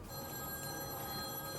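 A telephone rings steadily indoors, a continuous electronic bell tone at moderate volume with no talk over it.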